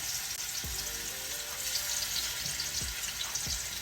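Pieces of oxtail are laid one by one into a hot pot and sear with a soft, steady sizzle. Several low, dull thumps mark each piece landing, all fairly quiet and close.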